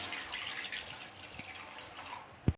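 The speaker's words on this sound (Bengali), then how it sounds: "এই দুধটা ঢেলে দেবো।" Boiled milk is poured into a pan: a faint, soft liquid trickle in a quiet kitchen, ending with a brief low knock of the vessel.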